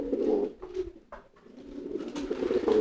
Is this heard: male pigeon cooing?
yes